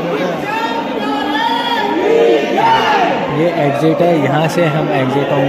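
Devotees in the queue at Khatu Shyam temple raise loud jaikara chants and shouts, a dense crowd of voices close by, with a person speaking over it.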